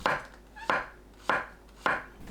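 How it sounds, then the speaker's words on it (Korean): A knife cuts king oyster mushrooms diagonally on a board in four evenly spaced, crisp, close thuds, each followed by a short fading tail, with no voices. "새송이버섯을 길게 반 가르고 어슷 썰어주세요."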